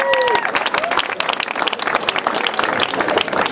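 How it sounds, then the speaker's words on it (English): A crowd at the kick-off of the 2012 Stride for Susie and Smita 5k charity walk at Saratoga High School claps in sustained, dense applause, loud and close, with a brief tonal sound at the very start. "A big round of applause for Brian."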